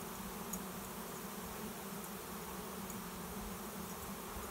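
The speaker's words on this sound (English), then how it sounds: "It was just a big cloud of bees going overhead." A swarm of honey bees passes overhead outside a workshop, giving a continuous airborne buzz that stays steady and fairly loud, with no talking.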